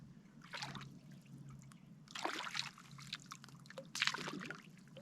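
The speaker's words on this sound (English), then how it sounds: "It bubbles like a real hot tub." Hot spring water bubbling and trickling close by, soft gurgling bursts that swell and fade in a few waves over a quiet background.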